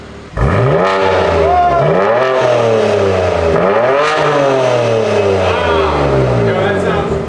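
A BMW M340i engine revs repeatedly, its pitch swelling and falling in several loud, close blips over a steady idle, with a voice talking over it.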